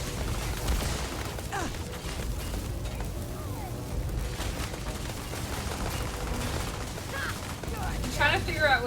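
Rifle fire in the video game Starfield, repeated sharp shots over a busy, rumbling game soundscape, with bursts continuing across the stretch at moderate loudness.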